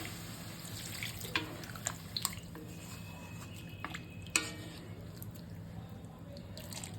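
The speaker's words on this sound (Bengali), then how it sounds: "অল্প করে জল দেবো" Water poured a little at a time into a simmering curry of potol, potato and prawns, faint splashes and drips with soft clinks against the pot over a low background hum.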